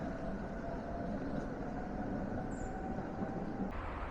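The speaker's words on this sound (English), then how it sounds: "There goes a tram" A tram rolls past on a street in Sofia, Bulgaria, producing a steady low rumble and faint metallic whine that holds evenly, with a brief high squeal and a click near the end.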